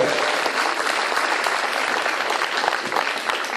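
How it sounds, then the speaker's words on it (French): A cinema audience at a presentation of the French film Gibraltar bursts into loud, dense applause that holds steady and close throughout, with no voices standing out. "vous applaudissez d'un seul coup"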